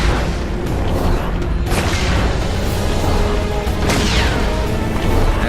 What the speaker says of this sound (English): those things are exploding